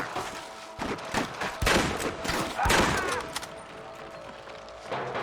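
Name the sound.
gunfire in Red Dead Redemption video game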